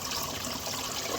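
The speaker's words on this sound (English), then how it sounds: "That's the water going in, but the drum's that blocked." Water trickling and flowing steadily into a blocked washing machine drum during a motor repair, a continuous close hiss and gurgle with no talk.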